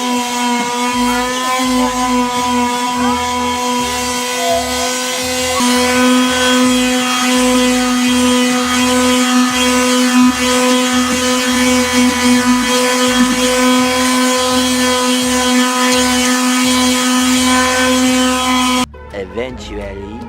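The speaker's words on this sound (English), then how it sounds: "just sanding this all the way down to raw wood" A power sander whines steadily at a constant pitch, sanding wooden dresser drawers down to raw wood, a loud continuous mechanical drone running nearly the whole time before cutting off near the end.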